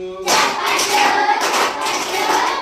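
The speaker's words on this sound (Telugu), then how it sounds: "పాటలు వింటూ చప్పట్లు" Hand claps keep time in a children's song, blending into bright sung melody and accompaniment that fill the clip from start to finish.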